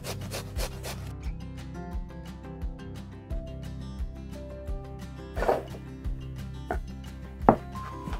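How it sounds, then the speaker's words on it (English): A potato is grated by hand, giving quiet, rhythmic rasping strokes repeated at a steady pace with a few louder scrapes, close by and with no talking. "Now we need to grate 1 potato."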